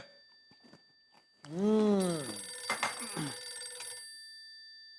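An electronic telephone ring sounds steadily in a Hindi TV sitcom scene, with a voice calling out over it before the ringing stops abruptly.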